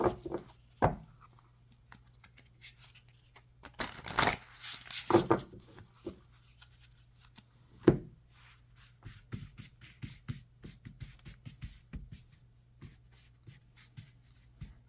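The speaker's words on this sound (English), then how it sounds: "I usually shuffle my oracle decks from the side." An oracle card deck, the Wisdom de Alma, shuffled from the side by hand: a dense run of soft riffling and tapping bursts with a few sharp clacks, close and fairly quiet, no voices.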